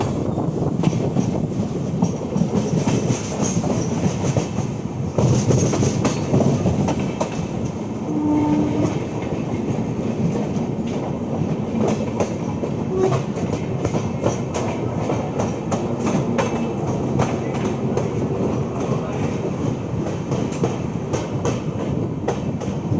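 The Swarna Jayanti Rajdhani Express runs steadily on rails near Gurgaon station, a continuous loud rumble with rhythmic clickety-clack of wheels over joints, heard from inside the train with no talk.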